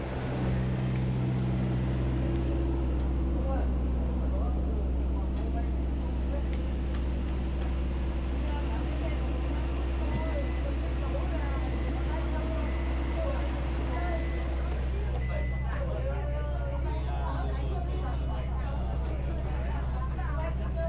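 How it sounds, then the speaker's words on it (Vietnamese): An airport shuttle bus drives across the apron toward the Côn Đảo terminal on a rainy day, a steady low engine drone with interior rumble and faint passenger chatter throughout. "Xe buýt bắt đầu di chuyển vào nhà ga của sân bay Côn Đảo"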